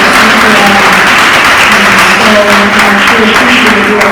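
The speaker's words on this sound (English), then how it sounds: "Let's give all of our panelists another round of applause" An audience at a policy and politics summit applauds the panelists, a loud, dense, sustained round of clapping with a faint murmur of voices under it.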